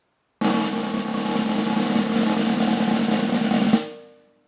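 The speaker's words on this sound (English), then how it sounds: "A press roll is where you just press into the snare drum" A jazz press roll on a snare drum: sticks pressed into the head to make one continuous buzzing wash lasting about three seconds, ending with a slight accent and a short ring-out.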